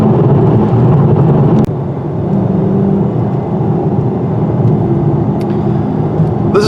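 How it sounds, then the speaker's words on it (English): A Dodge Charger ScatPack V8 hums and whirs steadily from inside the cabin while cruising, the low engine drone loud and constant with a slight dip in the middle. "I just love V8 engines."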